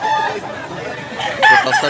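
A gamefowl rooster crows up close, one loud drawn-out call followed by the start of a second, with faint background voices.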